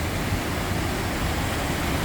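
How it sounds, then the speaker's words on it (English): Waterfall on the Grand Mesa, a steady broadband roar of falling water that stays loud and constant throughout, with no voices. "there's a beautiful waterfall here"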